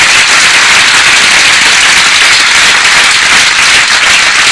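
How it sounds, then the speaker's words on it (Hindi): Loud, dense applause from a training-session audience, steady hand claps filling the whole stretch with no voices over them. "तो तालियां बजाइए एक जोरदार"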